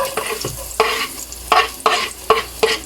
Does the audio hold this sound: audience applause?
no